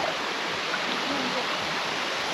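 A stream in Paraguay, near the Salto Paí falls, rushes over rocks with a loud, steady roar of broadband water noise that fills the whole stretch without pause.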